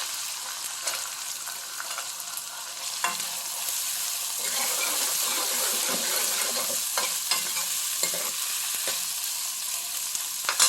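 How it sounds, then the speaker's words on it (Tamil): Onions sautéing in a pan for an egg gravy, a continuous close sizzle with scattered spatula scrapes and taps throughout, no one speaking. "வெங்காயம் நல்லா வதங்கட்டும்."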